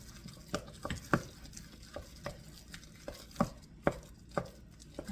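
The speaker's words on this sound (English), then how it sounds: "You're stirring that butter so you get it all over." Butter being stirred into mashed potatoes, a run of soft, irregular spoon knocks and squelches against the bowl, close and moderately quiet with no talking.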